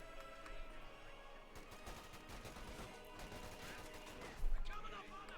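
MG-34 machine gun bursts in Company of Heroes 2, rapid dense gunfire mixed with battle noise and a louder crash near the end, continuous and busy throughout.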